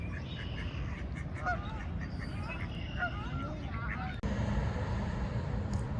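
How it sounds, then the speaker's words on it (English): Ducks and geese at a park pond on Dufferin Island in Niagara, a busy scatter of quacks and honks over steady outdoor background noise, with a voice talking over the birds. "Lots of ducks."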